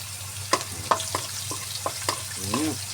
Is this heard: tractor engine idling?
no